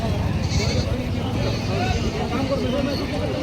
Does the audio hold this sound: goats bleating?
yes